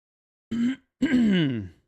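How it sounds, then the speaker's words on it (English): Two short guttural throat-clearing noises close up, a brief one followed by a longer rasping one. "I am so sorry for clearing my throat so much."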